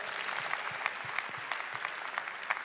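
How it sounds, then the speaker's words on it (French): A short burst of crowd applause, fairly faint, with dense clapping and a few louder individual claps standing out. "Il faudrait qu'on applaudisse Mehdi très fort, s'il vous plaît."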